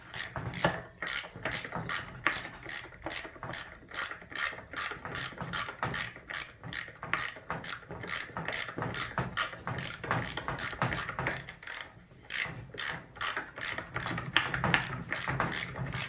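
A hand ratchet clicks in a fast, even rhythm while backing out tail shaft bolts on a 4L80E transmission in a C3 Corvette LS swap, close and continuous, with brief pauses between strokes.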